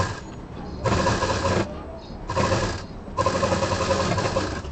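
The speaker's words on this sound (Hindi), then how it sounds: "यहाँ पर दाब मशीन चला देंगे" A sewing machine stitching scrap fabric into piping runs in three loud, steady bursts of whirring and rattling at close range, separated by brief pauses with a low room hum underneath.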